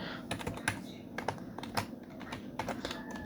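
Fingers type a folder name on a computer keyboard in quick irregular bursts of close, crisp key clicks with short pauses between, quiet and without talk.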